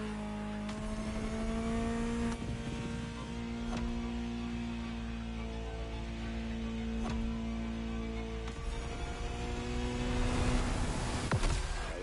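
A Ferrari engine in a racing video game drones steadily, rising and falling in pitch as it revs and shifts, sounding synthetic and even; constant, moderately loud.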